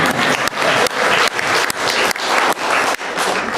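Audience clapping at a county board of supervisors meeting, a loud, close burst of many hands that starts and stops repeatedly in short bursts of under half a second, one after another, as names are read.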